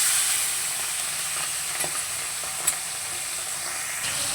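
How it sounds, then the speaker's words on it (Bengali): Pomfret fish sizzles and fries steadily in a hot pan, a continuous bright crackling hiss with a couple of sharper pops, close and alone without talk. "তো এখন মাছটা ভেজে নেব। দিয়ে দিচ্ছি মাছটাকে আগে ভেজে তুলে নেব।"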